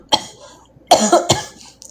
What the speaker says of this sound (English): excuse me, I don't want to cough in your face